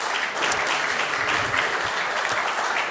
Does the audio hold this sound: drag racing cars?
no